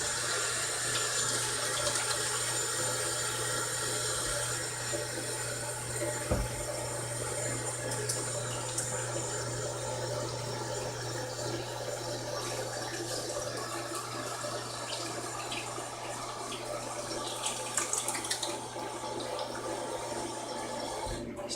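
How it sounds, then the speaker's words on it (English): Tap water running steadily into a sink while hands are washed before cooking, a constant faint rushing stream with a low hum underneath and occasional splashes, no talking. "you have to wash your hands."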